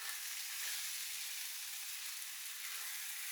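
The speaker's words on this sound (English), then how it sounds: "So let that cook down again, stir it, fry it, let it cook down" Curry mix for a lobster and king prawn curry frying and cooking down in a pan, a steady close hiss of sizzling that runs alone and unbroken throughout.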